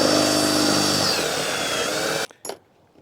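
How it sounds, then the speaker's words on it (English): A power drill bores through a piece of cheap Harbor Freight metal stock being made into a camping axe, a loud steady whine for about two seconds before cutting off, followed by a couple of brief clunks. "we're just going to drill that on through."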